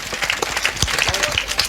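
An audience at a Hindi comic poetry recital breaks into dense, lively applause, many hands clapping close and loud throughout.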